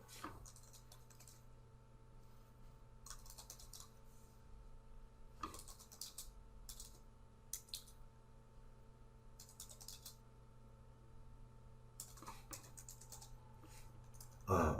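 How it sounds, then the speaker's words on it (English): Quiet clusters of computer keyboard keystrokes patter in short bursts separated by pauses, over a low steady electrical hum. "I've got some fat finger typing today."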